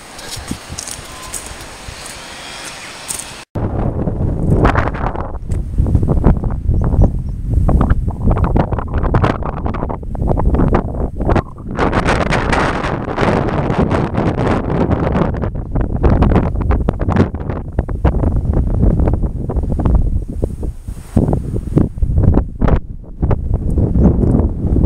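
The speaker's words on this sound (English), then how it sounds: "Brightened up, but still drizzly now and again, very windy." Very strong wind on a drizzly countryside walk near Denbigh roars and buffets the microphone in loud, surging gusts after a brief quieter opening, continuing unbroken to the end.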